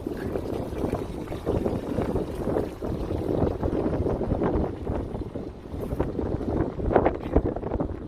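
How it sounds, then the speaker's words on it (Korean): A gentle breeze rustles across a desert hot spring, a soft, low, uneven rush of wind buffeting the microphone at close range, with no voices. "바람도 살랑살랑 불고 온천하기 너무 좋은 날씨입니다."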